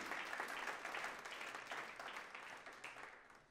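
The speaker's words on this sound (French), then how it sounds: "Est-ce qu'on peut applaudir notre Dieu ?" A church congregation applauds God during a French sermon, a dense crowd of hands clapping steadily, bright and continuous, slowly tapering over a few seconds.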